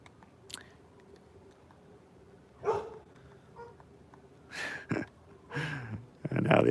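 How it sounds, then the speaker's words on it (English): Dogs in a neighborhood bark in several short bursts, a few distant and sparse at first, then louder, closer barks toward the end over quiet background. "the other dogs in the neighborhood are barking at my dog"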